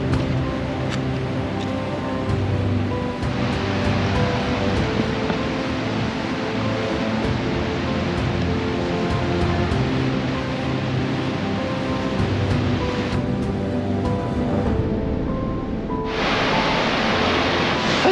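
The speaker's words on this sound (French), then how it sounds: "tu t'approches de la cascade mais tu es déjà dans le cours d'eau là en fait" A waterfall and its stream rush in Iceland, a loud unbroken roar of flowing water close by that shifts in tone midway, with no talking.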